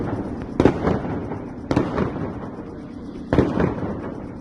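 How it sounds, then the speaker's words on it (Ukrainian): Three sharp firework bursts go off a second or so apart over a residential neighbourhood, each with a crackling tail, somewhat distant and echoing. "Цей салют неабияк спочатку налякав, а потім обурив місцевих."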